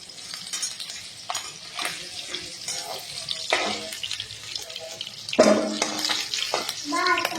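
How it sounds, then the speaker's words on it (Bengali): Chicken feet frying in oil, a watery sizzle and bubbling with stirring scrapes and bursts of louder spitting, heard under intermittent talk, including a voice. "একে একে করে সব ঠ্যাং ভেজে দিব।"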